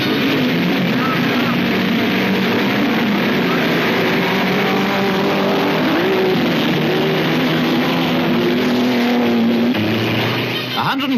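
Grand Prix racing cars of the era, including Coopers, Ferraris, BRMs and Aston Martins, roar off the starting grid in a dense, sustained blare of engine noise that hardly changes, loud and continuous for the whole stretch.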